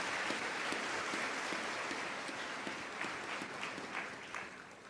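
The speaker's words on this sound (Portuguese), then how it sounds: "Vamos aplaudir a palavra de Deus bem forte" Applause from a church congregation during a sermon, a dense continuous wash of clapping with scattered louder claps, holding steady before easing off toward the end.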